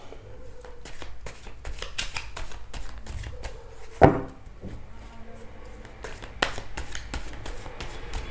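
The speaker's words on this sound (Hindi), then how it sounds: "एक कार्ड और लेती हूँ।" Tarot cards snap and shuffle as one more card is drawn from the deck, giving a fast run of crisp, close card flicks with one sharper slap in the middle, fairly quiet.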